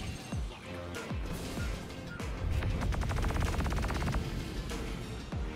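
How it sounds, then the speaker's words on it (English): Rapid gunfire bursts in the space game Star Citizen, a loud, dense run of repeated shots with impacts and crashes, steady throughout the stretch. "Some dude out here shooting at me."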